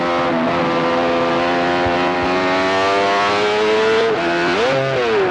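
A Benelli 350cc race motorcycle on the Manx Grand Prix course screams at high revs, holding a loud sustained whine that surges and dips as a gear shift is missed, close on board throughout.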